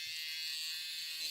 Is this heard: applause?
no